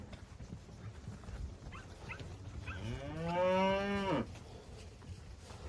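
A cow on a farm gives one long, loud, harmonic moo lasting over a second, rising then holding steady before cutting off, over low outdoor background noise.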